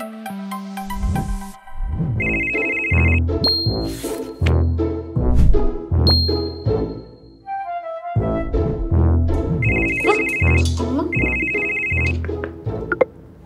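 A telephone rings with a loud electronic ringtone, repeating its melodic phrase several times in a row, close and clear with no talking over it.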